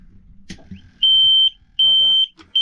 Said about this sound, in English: So that alarm will go when the engine goes over temperature, nice and loud.